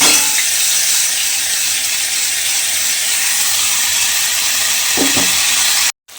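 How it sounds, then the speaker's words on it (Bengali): Ground spice paste sizzles steadily in hot oil in a pan, a continuous loud frying hiss with a brief stirring clatter near the end. "মিক্সির মধ্যে যে মশলাটা বেটে রেখেছিলাম সেই মশলাটা কিন্তু আমি তেলের মধ্যে দিয়ে দিয়েছি, দিয়ে একটু এইভাবে কষিয়ে নেব।"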